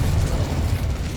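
Confringo blasting spell in the video game Hogwarts Legacy, a dense, loud low-frequency burst and rumble that fills the whole short moment with no talking.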